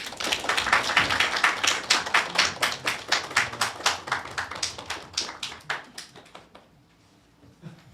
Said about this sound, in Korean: 원재 스님을 큰 박수와 함성으로 앞으로 모시도록 하겠습니다.